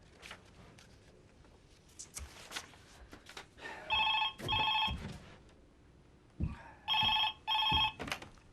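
A telephone rings in two pairs of bright electronic trills, loud and close, with quiet room noise and faint movement in between.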